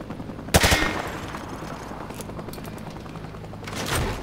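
Gunfire rips through light cover in Call of Duty Modern Warfare 2 Remastered: a loud sharp burst of shots up front, scattered fainter impacts after, and another short volley near the end.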